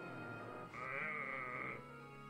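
Mudsdale, a horse-like Pokémon, gives its cry in Pokémon Ultra Sun: a single faint, bleating whinny lasting about a second, with soft background music and no talking.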